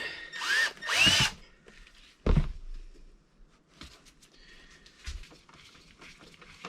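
Two short bursts of a power drill with a dull 11/64 bit whirring up near the start, followed by quieter clunks and handling noises.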